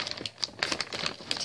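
A thrift store goody bag is cut open with faint, quick plastic crinkles and small snips in an irregular patter, quiet and close.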